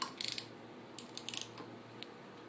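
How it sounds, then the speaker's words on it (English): A 17mm socket wrench loosens the flywheel nut on a Yamaha QT50 scooter engine, giving a few quick bursts of light ratcheting clicks, faint and close, with no talking. "with the piston stop in place, we need our 17mm socket to remove the flywheel nut."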